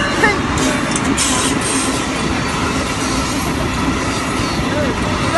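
Brightline passenger train rolling steadily along the rails, a continuous loud rumble with wheel noise and faint squeal, heard from on board with no pause over several seconds.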